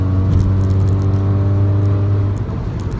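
Seat Cupra 300 with a resonator-delete exhaust pulling hard at motorway speed, a loud steady low engine drone with rising harmonics, close and continuous with no talk.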